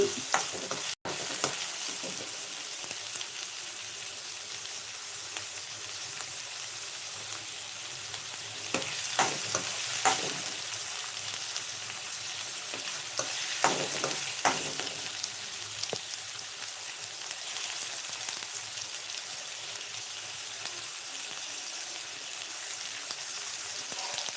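Ridge gourd stir-fries in a pan with a steady, close sizzle, and a few louder stirring scrapes cluster in the middle; no one speaks.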